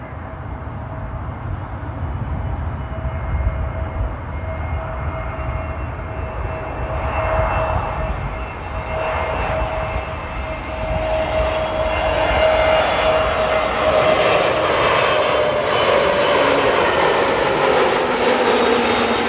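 A Pegasus Airlines jet airliner arrives at Amsterdam Airport, its engine roar building steadily louder with a rising whine as it approaches, continuous and unaccompanied by talk.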